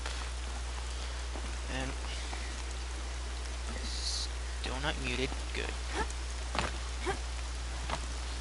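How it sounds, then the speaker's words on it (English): Steady rain hisses in the Horizon Zero Dawn video game, a constant wash of falling drops running beneath someone talking quietly, with a few brief clicks and tonal game sounds scattered over it. "Oh, damn rain!"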